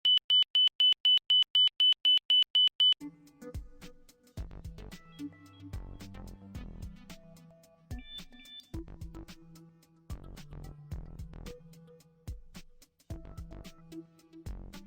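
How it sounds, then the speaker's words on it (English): An ILS inner marker beacon sends a rapid run of evenly spaced, high-pitched Morse-style dots at 3 kHz for about three seconds. Irregular low percussive thumps and short tones follow after the beeps stop. "The marker's audio signal is a repeated Morse-style dot at 3 kHz."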